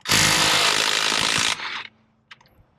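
A loud, harsh impact wrench whir removing lug nuts from a 2001 Buick LeSabre runs for about a second and a half, then winds down and stops, followed by a couple of faint clinks.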